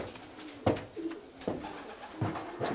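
Racing pigeons coo in a few soft, throaty bursts, close by in a loft, with short pauses between calls and a faint background hum.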